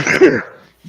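A single short, sharp sneeze bursts out close by and fades quickly, followed by a brief quiet and a faint low sound.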